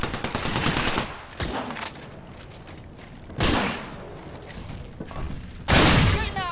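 Bursts of automatic gunfire in a squad shooter match, loud volleys separated by quieter gaps, with a sharp impact crack at the end.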